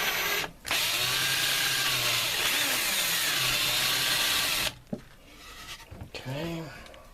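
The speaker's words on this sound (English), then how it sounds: "I think I can drill that right there" A power drill runs continuously for several seconds, boring a hole into wood while building a Kydex press, loud and close, then stops, followed by brief handling noises and someone speaking.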